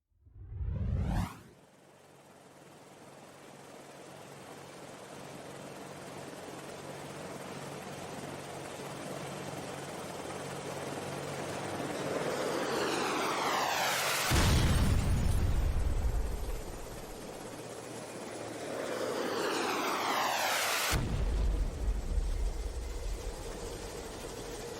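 In a video game mission, a helicopter is brought down amid explosions: a sharp blast opens, then rising engine roar and whooshing sweeps are broken by two more heavy booming explosions.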